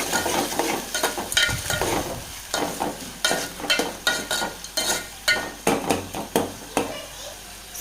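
Dry vermicelli is roasted without oil in a pan for upma, a utensil scraping and stirring it in steady, rhythmic strokes that are close and fairly loud throughout.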